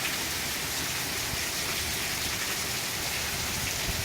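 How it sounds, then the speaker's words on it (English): Heavy rain pours down outside during a Houston flood, a dense, even hiss of drops striking surfaces that stays loud and constant throughout, with no voices. "The rain's been going for about 15 minutes now."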